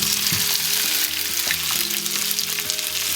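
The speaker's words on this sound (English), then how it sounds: "So they're going into the frying pan now." Pork tenderloin pieces sizzle and crackle loudly in a hot frying pan, a steady frying hiss close by with no voices.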